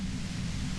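In the video game Disco Elysium, a brief, even hiss of white noise static holds steady at moderate volume from start to end, with no speech.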